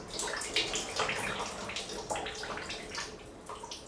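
Water splashes and pours steadily out of a New Holland T6.180 methane-powered tractor, a continuous near gush with small surges throughout.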